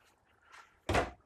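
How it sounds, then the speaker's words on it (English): A drawer beneath the pantry shelves of a 2021 Keystone Cougar 24SABWE RV is pulled open, ending in a single short thunk after faint sliding, quiet and close. "it looks like there's a drawer underneath as well"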